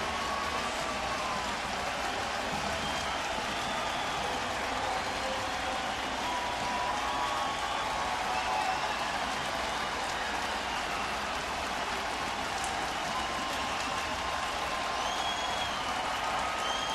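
A baseball stadium crowd applauds Mariano Rivera on the mound, a dense, sustained wash of clapping and cheering that holds steady throughout, with no break or talk.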